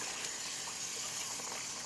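Cold tap water runs in a steady broadband gush, rinsing green beans in a kitchen; the flow stays even and close for the whole short stretch, with no talking.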